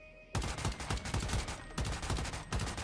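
Sustained rapid automatic gunfire in the video game Once Human, loud and dense with a brief break, no talking.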